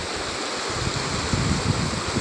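A river flowing at Locumba in the Tacna region of Peru: a steady broadband rush of moving water mixed with some wind buffeting, continuous and fairly loud, with no talk.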